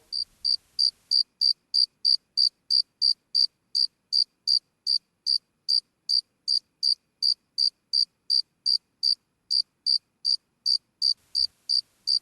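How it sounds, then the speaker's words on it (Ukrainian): A cricket chirps steadily in a regular, even pulse of high, bright calls, about two per second, clear and fairly loud with no voices over it, as in a children's meadow sound game. "а це цвіркун"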